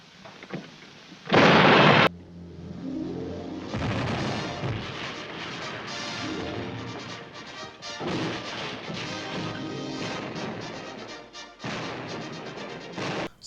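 Naval ship cannons boom in a heavy barrage, one sharp loud blast followed by rolling, overlapping explosions and crashing rumble that continue throughout.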